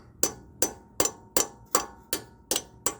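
Eight evenly spaced sharp metallic hammer taps seat a clutch part on a Jeep TJ/LJ, each a crisp close strike with a quick ringing decay, steady rhythm and no talk.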